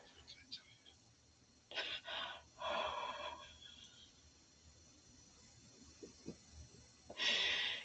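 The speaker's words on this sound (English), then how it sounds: "First of all, you're breathing heavy." Close, breathy exhalations and gasps come in uneven bursts from a person breathing heavily, with quiet pauses between them and no clear talking.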